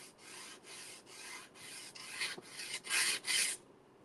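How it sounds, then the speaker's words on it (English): A small gator detail sander rubs back black paint in a steady rasping run of short strokes, close and fairly loud, growing harsher toward the end before stopping abruptly. "I am just taking my little gator sander and sanding some of the black back"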